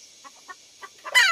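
A chicken clucks in soft, spaced bursts, then breaks into a louder, sharper cackle at the end, close by.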